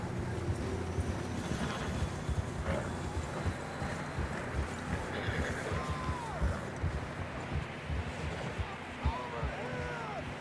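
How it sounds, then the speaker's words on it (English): Horses' hooves clip-clop steadily over rough ground in the video game Red Dead Redemption 2, an uneven galloping rhythm against wind and ambient noise. "I don't think we can go much further on the horses."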